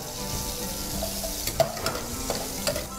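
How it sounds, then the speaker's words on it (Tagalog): Garlic and ginger sizzling in hot oil in a pan, a steady close hiss broken by several sharp stirring clicks and scrapes. "Pag mainit na ang mantika, ilagay natin ang bawang, luya."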